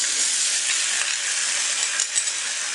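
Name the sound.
soaked sago stirred into ghee in a pan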